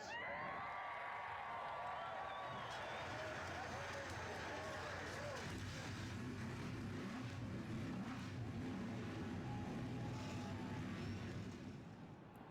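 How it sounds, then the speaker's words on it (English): NASCAR race car engines firing up together in a racing video game, a dense, steady, loud rumble that holds throughout while a commentator talks over it. "Drivers, start your engines"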